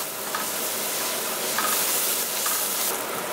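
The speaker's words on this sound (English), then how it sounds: "Keep stirring and we're going to cook on high gas" Zucchini with turmeric, chili flakes and garam masala is stirred in a hot pan over high flame, giving a steady close sizzle with a few scraping stirs.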